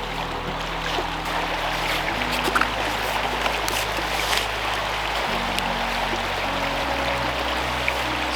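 A woodland brook flows steadily, a constant broadband rushing wash of water that stays even and unbroken from start to finish, with no voices over it.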